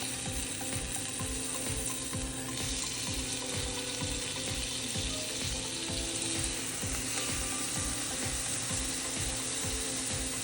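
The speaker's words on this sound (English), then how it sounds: "So we're gonna let that sear nicely for about 4 minutes and then we're gonna flip it" Salmon fillets sear in a hot pan, giving a steady, dense sizzle and crackle that holds at an even level throughout. Faint rhythmic clicking runs underneath, and no one talks.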